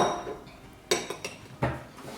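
A spoon clinks against a dish while sauce for eggs Benedict on a grilled cheese sandwich is scooped, giving three or four light, sharp knocks spaced about a third of a second apart, close and clear over faint kitchen background.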